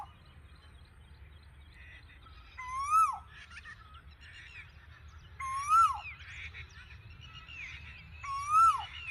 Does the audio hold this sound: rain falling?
no